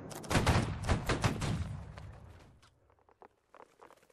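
Musket volley in the video game Holdfast: Nations at War: a loud, ragged rolling crackle of many shots over about two seconds, fading into scattered lighter pops and distant reports.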